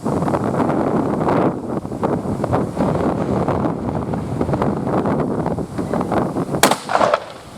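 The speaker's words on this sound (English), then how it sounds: "the wind's really picked up" Strong outdoor wind buffets the microphone in a steady, loud roar with gusting surges, a sharp rustle near the end, no talking.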